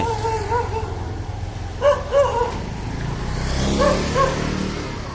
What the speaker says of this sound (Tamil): ஒரே நாய் தொல்லைகள் இருக்கிறது